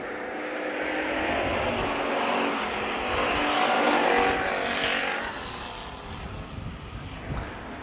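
Race cars roar past during a heat race at Bakersfield Speedway, a loud swelling engine rush that builds, peaks and fades as the pack passes, with faint commentary underneath.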